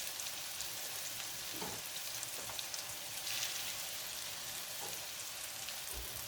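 Meatballs sizzle in a hot pan of melted honey, garlic and soy sauce, a steady, close hiss of frying with a few soft stirring bumps and no talk.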